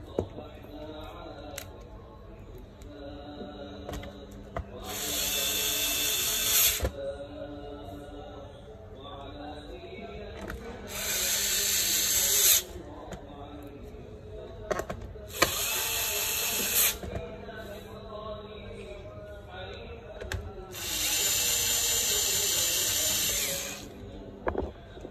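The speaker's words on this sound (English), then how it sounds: "Now you need to fix all the screw back." A small electric screwdriver drives screws back into the underside of an HP 15-ab238tx laptop, four bursts of high whirring lasting a couple of seconds each, close and loud, separated by quieter handling clicks.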